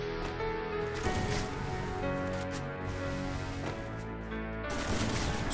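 Gunfire from the Free Fire battle-royale video game, bursts of shots mixed into a dense, loud game soundtrack with steady music and effects throughout.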